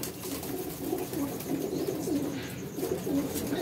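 Lakha Golden pigeons coo in a steady rolling chorus of low, repeated burbles close by, with no voices over them.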